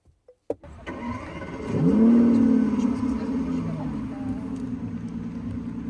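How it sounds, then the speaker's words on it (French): A few clicks, then a simulated sports car engine from a Zeekr 7X's exterior speaker fires up and revs loudly before settling into a steady rumbling idle. "le bruit de voiture de sport."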